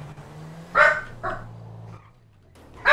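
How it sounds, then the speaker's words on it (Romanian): A dog in the FiveM game barks in three short, fairly loud bursts, two close together and one more near the end, over a low steady engine-like hum. "iar se aude. Cățelul?"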